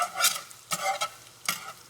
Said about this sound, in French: Je viens faire fondre mes 50 g de beurre